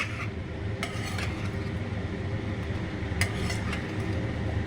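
Jujube pickle being stirred with spices and salt in a pan, giving a steady scraping and stirring texture with a couple of brief clinks of utensil against metal over a soft background sizzle.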